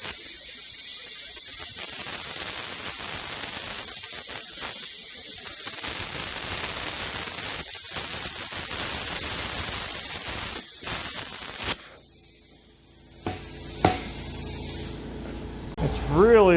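A plasma cutter slices through thick steel with a loud, steady hissing roar that runs for about twelve seconds, then cuts off and leaves brief clanks and scraping in the metal shop.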